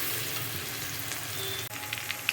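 Potato pieces for a spinach and potato dish fry in a pan with a soft, even sizzle, followed near the end by a few light clinks of a utensil, with no talking.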